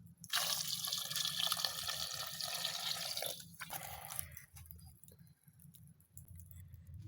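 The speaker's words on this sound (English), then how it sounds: "And I'll add some water." Water poured into a pot of Ghanaian groundnut soup, a continuous splashing pour for about three seconds followed by quieter drips and trickles, close and clear with no talking.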